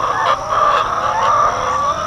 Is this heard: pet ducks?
yes